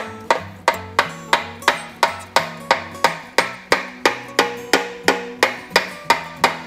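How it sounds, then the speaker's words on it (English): Rubber mallet shaping floor sheet metal for a 1972 Triumph GT6 restoration, heard as a steady series of about nineteen close, loud, ringing strikes at an even pace, each decaying quickly, no talk. "just a rubber mallet because I don't want hammer marks necessarily on my metal, but I want my metal to move"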